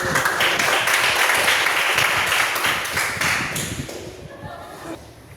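Classroom applause from a group of students, a dense, steady patter of clapping that carries for about four seconds, then thins out and fades, with faint talk underneath.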